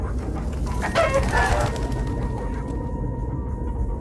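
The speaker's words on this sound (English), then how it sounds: "it appears we are in the land of chickens that are indeed the size of zombies" Clucking and a short crowing call from chickens in Minecraft Story Mode sound over a steady, dense game ambience, peaking briefly near the middle before fading back into the background.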